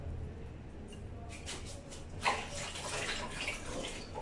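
Water poured into a blender of badjia batter with salt and chopped green onion, a steady broadband wash of liquid lasting several seconds, fairly close, rising slightly midway.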